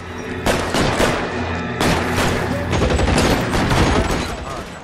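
Rapid gunfire in the LA Noire video game, a dense fusillade of overlapping shots running steadily throughout, loud and close, with sharp bursts starting near half a second and again near two seconds.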